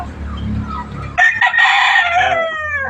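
A rooster, one of the speaker's copper- or rust-coloured birds, crows once loudly and close by after a second of quiet farmyard background, the call rising and then trailing off.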